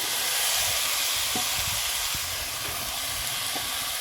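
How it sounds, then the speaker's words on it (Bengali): Boiled jackfruit and fried potatoes go into hot spice masala in a pan, setting off a loud, steady sizzle with faint stirring knocks underneath and no talk. "এখন আমি দিয়ে দেবো সিদ্ধ করে রাখা এঁচড় আর ভেজে রাখা আলু"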